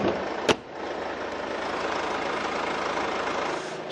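A Mercedes-Benz E-Class idles steadily with its hood open, a smooth, even engine hum heard up close, opened by a single sharp knock before the drone settles in.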